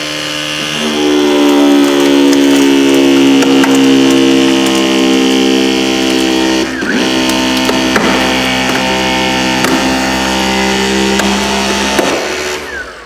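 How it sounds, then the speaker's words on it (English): A Sawzall reciprocating saw cuts through plastic trim inside a car, a loud steady buzzing drone that holds for about twelve seconds with a brief dip midway, close up and alone. "having a Sawzall is really nice to cut all this plastic crap out of your way"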